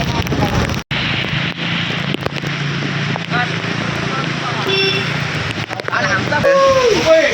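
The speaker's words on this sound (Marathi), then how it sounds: "बेकार बघा फुल वारा पाऊस" Strong wind and rain lash an outdoor area beside a petrol pump and flooded fields, making a steady, loud roaring rush that fills the whole stretch while a voice speaks over it.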